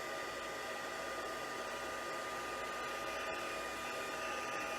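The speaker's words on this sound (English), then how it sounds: "I know some of you guys like to see it when I use the die cutting machine" A die cutting machine runs steadily at close range, cutting out Stampin' Up! card stock, a continuous motorized whir with a faint mechanical hum, no talking.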